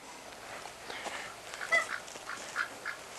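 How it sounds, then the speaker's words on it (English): Ducks and geese are let out at a farm pond and give scattered, fairly faint quacks and honks over a quiet outdoor background. "I'm gonna go ahead and release the quackers and the honkers."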